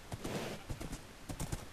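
Horse hooves clip-clopping in a video game, a quick uneven run of hoofbeats over a dense, noisy background, fairly near and without talk.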